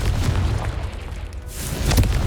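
Confringo fire spell blasts in Hogwarts Legacy, booming explosive bursts over a rumbling combat backdrop, a brief lull and then a louder blast near the end, with no talking.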